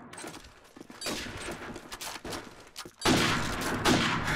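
Sniper rifle fire in a video game comes as loud, sharp bursts that give way to sustained, noisy rumbles, with the heaviest blast in the last second and no speech over it.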